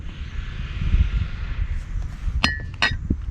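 Red and teal ceramic coffee mugs clink together a few times while being handled, with sharp bright knocks near the end over a low background rumble.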